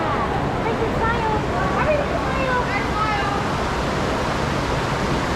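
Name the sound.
waterfall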